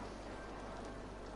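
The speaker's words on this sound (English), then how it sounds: "It's raining." Steady rain falls in the city-building game Cities: Skylines, a dense continuous hiss of rainfall that stays even and fairly soft throughout, with no talking over it.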